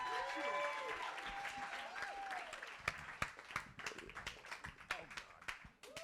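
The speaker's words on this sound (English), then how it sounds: "Give another round of applause for Mary Koda." Audience applause at a live show, a crowd clapping with sporadic whoops and loud sharp claps, while a voice talks over the start.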